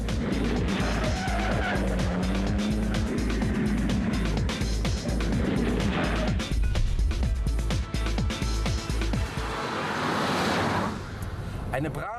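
A vintage Mercedes 220 SEb sedan with a fuel-injected engine, a 1960s rally and Nürburgring race winner, drives with a loud steady engine drone and sharp revving bursts, a voice talking over it throughout.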